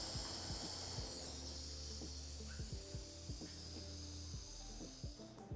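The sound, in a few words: nitrogen hissing out of dirt bike shock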